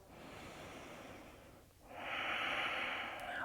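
Slow, deep breathing during a morning vinyasa yoga flow, a long airy exhale followed by a brief pause and a stronger, rushing breath, close to the mic with no talking.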